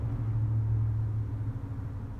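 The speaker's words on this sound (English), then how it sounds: "the traffic starts back up" Road traffic passing outside a hotel, a low steady engine rumble that swells and then eases slightly, faint and distant, with no talk.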